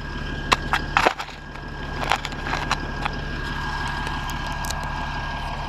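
A folding 6-foot wooden ruler is unfolded outdoors, with a few quick clicks and snaps of its joints over a steady low background hum and wind.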